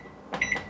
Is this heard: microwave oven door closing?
yes